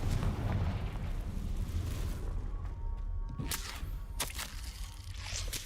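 Confringo fire spell in Hogwarts Legacy bursting as a dense, rumbling explosion over a continuous heavy low roar, with a few sharper cracks toward the end.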